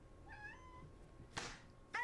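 A domestic cat gives a single soft, drawn-out meow, fairly faint against quiet room tone, followed by two short, louder bursts of noise.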